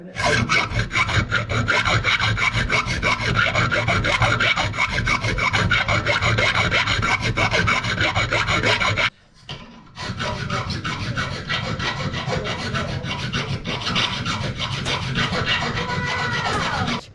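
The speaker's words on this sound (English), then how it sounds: "I've just got my mild steel ring. All I have left to do is sort out the inside of it and file it down." A file rasps against the inside of a mild steel ring in steady, loud back-and-forth strokes close by. It stops for a brief pause near the middle, then carries on at the same even pace.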